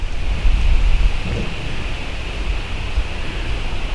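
Medium outdoor wind buffets a Panasonic HC-VX870 camcorder microphone, a broad, rumbling roar with gusty low thumps that swell and ease steadily throughout, with no voices.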